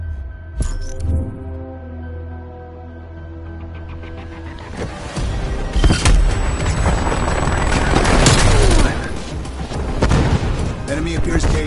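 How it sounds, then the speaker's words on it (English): Gunfire and heavy explosions from a strafe run in a zombies video game, with loud booms and sustained rumbling blasts over about ten seconds, rattling crackle throughout and a voice speaking in places. "Hostile strafe run inbound"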